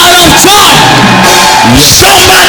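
A church congregation at a Sunday service bellows and yells together in loud, overlapping shouts and whoops, close and crowded for a couple of seconds.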